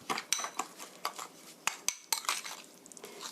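A utensil stirs and mixes camembert pizza ingredients with olive oil in a bowl, producing close, irregular clinks and scrapes against the bowl with brief louder knocks.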